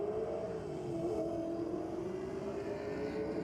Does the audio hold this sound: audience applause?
no